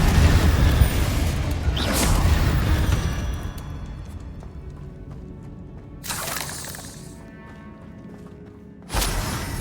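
Spell blasts in the video game Hogwarts Legacy, including a Confringo fire explosion: several loud bursts at intervals, each a sharp crack followed by a fading rumble over steady game ambience.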